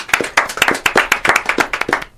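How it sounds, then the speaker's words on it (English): A short round of applause from a small group, distinct individual claps in a quick irregular rhythm, close and clear, tapering off at the end. "Let's give them a round of applause."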